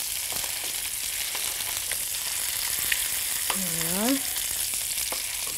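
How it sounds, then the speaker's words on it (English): Mackerel laid skin-down in a hot pan sizzles loudly and steadily, a dense frying hiss that continues throughout, with a brief spoken remark near the end. "take the fish and just put it into the pan away from yourself"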